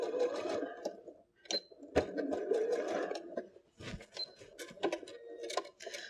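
Sewing machine stitching down the long edge and bottom edge of fabric for a DIY multi-pocket phone case, a steady close motor whirr in runs with short pauses and clicks, no talk.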